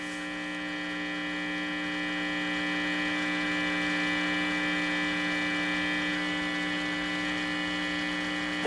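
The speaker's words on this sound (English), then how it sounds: "you can hear the radio just came on" A vintage Philco 53-702 tube radio switches on with a steady electrical hum, bright and buzzy in tone, holding at an even level throughout, slightly swelling, with no voices.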